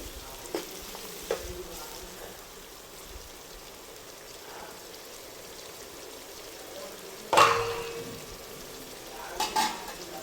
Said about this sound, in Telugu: ఇందులో మనము నాటుకోడి కూడా వేసేసుకున్నాము. ఇది అల్లం పేస్ట్లో మంచిగా మగ్గాలి.